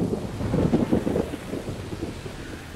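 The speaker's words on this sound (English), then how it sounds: "It's only a little bit of rain." Cartoon rainstorm with a deep rumble of thunder swelling early on, then steady rain pattering on through a quieter tail, with no voices.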